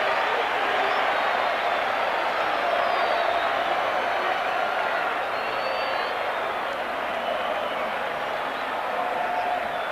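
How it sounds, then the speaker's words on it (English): A stadium crowd at the Bel Air Sarsfield rugby ground roars and cheers after Argentina's try in a 1987 test against Australia, a dense, steady wall of distant crowd noise that holds for the whole stretch. "The crowd has gone wild here at the Bel Air Sarsfield Stadium"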